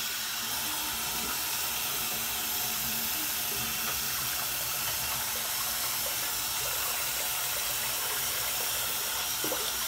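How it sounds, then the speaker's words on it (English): A kitchen sink fills from a running tap, water streaming steadily with a constant hiss and splash, close by and uninterrupted for the whole stretch. "I'm gonna fill up the sink here real quick."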